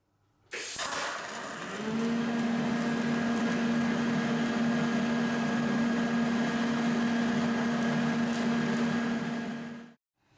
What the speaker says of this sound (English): So there's the steel weld.